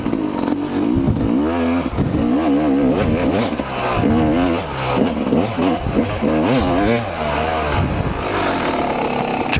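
Motorcycle ridden in second gear around a private track, the engine droning loud and close with steady rising and falling revs and wind buffeting throughout.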